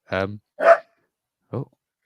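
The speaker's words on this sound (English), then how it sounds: "Who's got the dog?" A dog gives three barks, close and clear: two quick ones, then a pause and a shorter final bark, with silence between.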